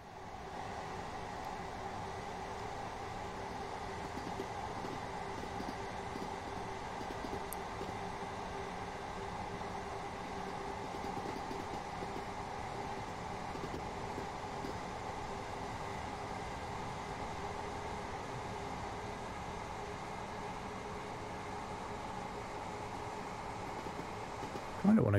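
Train in a railway simulator rolls along and builds to a steady speed with a constant low rumble and rail hum, moderately quiet and unbroken for the whole stretch, with a brief clunk right at the end.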